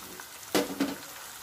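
Onion paste dropped into a hot pan for a chicken and potato curry gives two short, fairly faint sizzling bursts close by, with no talk.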